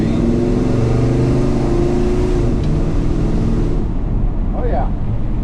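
A 1965 Chevrolet Chevelle Malibu with a big-block 396 V8 pulls away under acceleration, its loud engine drone rising then dropping as it shifts gears, heard from inside with wind noise and a voice talking over it.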